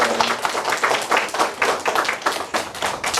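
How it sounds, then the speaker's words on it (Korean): A short burst of applause at a children's reporters' press conference, many hands clapping together at close range, steady and lively throughout. "우리 대표님을 위해서 박수 한번"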